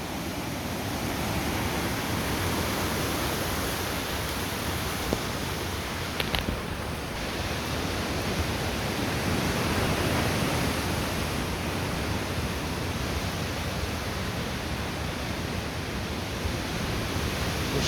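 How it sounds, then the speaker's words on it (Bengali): Seawater washes steadily onto a sandy shore below small hill trees, a continuous broad rushing wash that stays loud and even throughout with no voices. "এই যে পানি এইভাবে আসে।"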